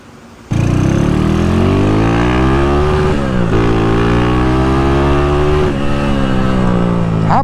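A Honda Titan motorcycle engine revs loudly and close by, holding a high idle with rising and falling pitch sweeps as the throttle is blipped, after a quieter start.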